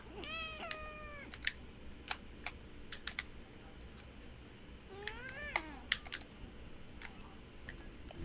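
A cat meows in two drawn-out calls, one at the start and another midway, while walking across a computer keyboard and pressing scattered keys that click sharply and irregularly in a quiet room.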